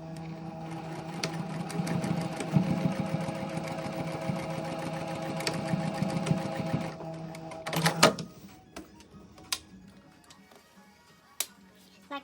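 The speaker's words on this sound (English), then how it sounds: "You're going to sew the side seams together" A sewing machine stitches the side seams of a garment bodice, a steady mechanical whir running continuously for about seven seconds, then stopping, followed by quieter handling clicks and rustles.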